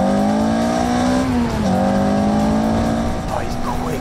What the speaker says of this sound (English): This car is brutal, isn't it?